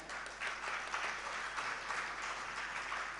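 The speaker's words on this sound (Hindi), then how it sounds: "मांग के खाने वाले के लिए ताली बजाई है कि भजन करने वाले के लिए ताली बजाई है?" Steady, dense applause from a large audience at a Jain religious discourse, continuous and moderately distant throughout with no speech over it.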